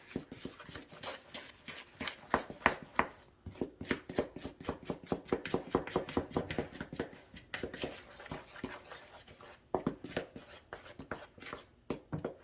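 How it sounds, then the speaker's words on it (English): A spoon stirs dry pancake batter of flour, salt and baking powder in a bowl, making rapid, rhythmic scraping taps that run close and fairly quiet for the whole stretch with short pauses. "I'm going to grab my spoon and we're going to mix this together"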